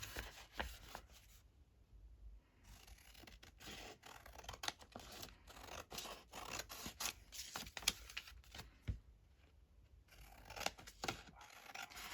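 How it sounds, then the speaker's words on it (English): Scissors trim a paper junk-journal page down to size, making a series of close, crisp snips and rustling paper scrapes in an uneven rhythm, with no talking. "So when I trim down this page to the right size, I obviously want to trim off this end, not that end"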